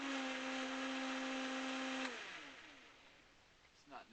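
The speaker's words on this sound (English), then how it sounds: "I'm going to give it another whirl in the Vitamix here to mix it real well" A Vitamix blender whirring a pineapple juice piña colada at high speed, a loud steady whine that cuts off halfway and spins down, followed by a brief clunk.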